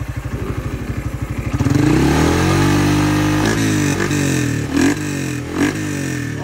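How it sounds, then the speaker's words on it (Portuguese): A motorcycle with a Polimet exhaust and its filter removed idles with a pulsing putter, then revs up hard into a loud, raw roar, with a few sharp throttle blips toward the end. "Vamos fazer um testezinho aqui pra vocês verem como que fica o barulho sem o filtro das duas."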